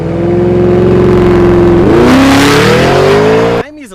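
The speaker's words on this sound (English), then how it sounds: "Underneath your fully carbon fiber hood, you get a twin turbo V8 with the same 657 horsepower that's in the Urus Performante." A Lamborghini Urus S twin-turbo V8 under a carbon fiber hood revs loudly up close, the pitch climbing, dipping briefly, then rising again before cutting off sharply near the end.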